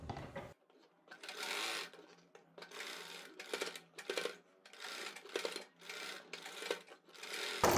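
A sewing machine stitches lace onto a neck design pattern in several close bursts of rapid needle chatter, each separated by short pauses.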